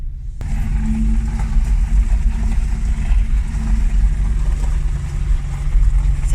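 BMW E36 with a stroker M50B30 inline-six, running on its first start with a rough idle; the engine bursts into a loud, steady running note close by, holding a rumbling drone with small wavering rises in revs.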